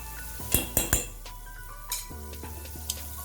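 Spice powders—red chili, garam masala, coriander, cumin and turmeric—are stirred into a fish korma masala: a few sharp spoon clinks against the pan near the start, then softer scraping over a steady sizzle.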